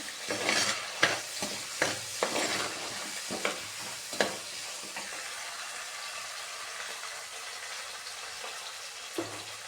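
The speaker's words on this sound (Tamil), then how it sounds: "சின்ன வெங்காயம் பூண்டு கருவேப்பிலை போட்டிருக்கேன்" Shallots, garlic and curry leaves frying in oil for a Trichy-style kara kuzhambu, with a steady sizzle and a series of sharp spoon scrapes and stirs near the start that thin out toward the end.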